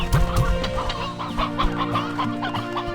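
Chickens in the video game Slime Rancher 2 cluck steadily and close, with overlapping bursts of clucks over a faint tonal game background and no talking.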